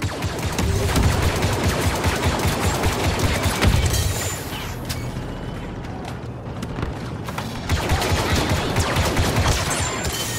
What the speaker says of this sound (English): Transport under disruptor fire.